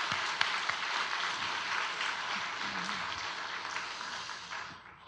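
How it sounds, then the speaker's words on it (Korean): A church congregation applauds the choir and praise team after a 100th-anniversary concert, a dense, sustained wash of many hands clapping in a large room, fairly soft and even, then fading out at the end with no talk over it. "우리 격려의 박수 부탁합니다"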